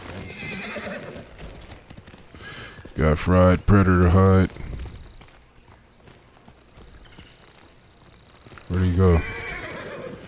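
A horse's hooves clip-clop at a gallop and it lets out two loud neighs in Ghost of Tsushima, with players talking casually over the game audio.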